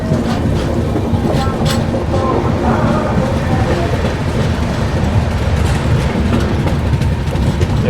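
Rajdhani Express running on the loop line past a stationary goods train at Sirpur Kagaznagar railway station, heard close and loud as a steady rolling rumble with rhythmic clickety-clack of wheels over rail joints throughout.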